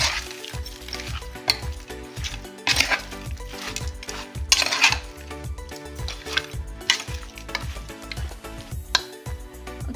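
Mutton being stirred with salt in a metal pot, the spoon scraping and clinking against the sides in a busy, repeated rhythm alongside a faint sizzle, close and fairly loud with no talking.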